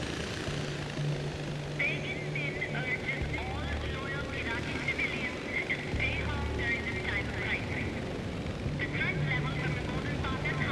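A helicopter in Far Cry 4 whirs as a steady low engine drone with rhythmic rotor pulses under ongoing talk and intermittent game sounds.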